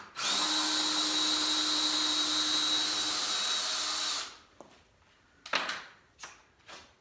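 A power drill with a countersink bit whines loudly and steadily for about four seconds, then stops, followed by several short knocks and scraping handling sounds.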